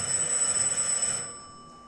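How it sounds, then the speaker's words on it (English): A telephone bell rings steadily as a radio drama sound effect for a detective mystery, a bright continuous jangle that cuts off and fades away after about a second, with no voices. "the ringing of that phone bell means mystery, adventure"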